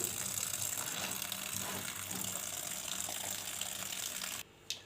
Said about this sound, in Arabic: نسيبه عليه الميه نغسله، وميه من الفلتر نضيفه اهي